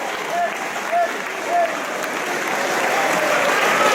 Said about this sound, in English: This capacity crowd is on their feet.